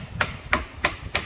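Four evenly spaced metallic hammer blows knocking a brake caliper back onto a 2015 Ford Grand Tourneo Connect's rear brake, close and loud, with no talk.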